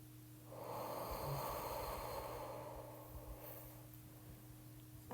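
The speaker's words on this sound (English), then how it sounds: "Exhale." A person exhales slowly during a calming breathing exercise, one soft, drawn-out breath that swells and then fades over several seconds, close and quiet against a low steady hum.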